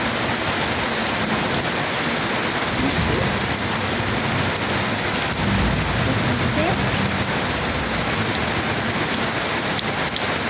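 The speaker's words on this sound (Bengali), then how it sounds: "আজকে হঠাৎ করে বৃষ্টি হতেছে, খুব ভালো লাগতেছে" Sudden steady rain pours down outdoors, a dense continuous hiss of drops on surfaces holding even and fairly loud for the whole stretch, with faint scattered voices beneath.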